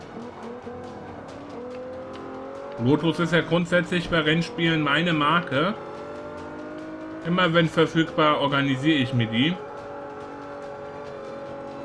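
A Lotus Exige S in the racing game Forza Motorsport 5 runs with a steady engine drone, then its revs climb and fall twice in quick shifting waves, under a voice.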